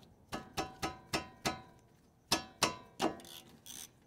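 A ratchet turns a 12 mm brake caliper bolt on a Honda Element front brake: about a dozen sharp, close metallic clicks in quick uneven bursts, with a short pause midway.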